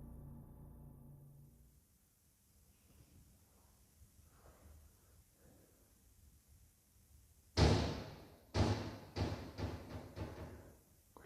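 A door swings shut unaided, landing a loud bang followed by several rattling knocks and thumps after a quiet, breathy stretch of room tone.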